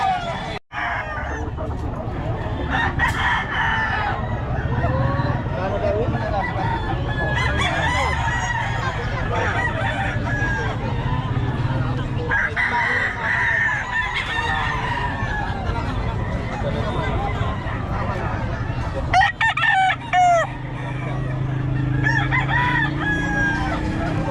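Fighting cocks crow and cluck repeatedly in a noisy cockfighting setting, several birds calling over a dense, steady crowd background with some chatter.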